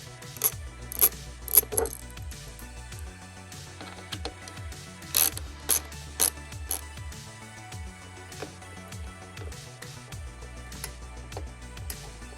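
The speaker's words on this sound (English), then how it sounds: "to get these out, you need a T20 bit to go ahead and get the existing bolts out of there" A ratchet fitted with a T20 bit backs out the grab handle bolts on a Jeep Gladiator, giving quiet, irregular clicking with a few sharper metallic snaps spread across the stretch.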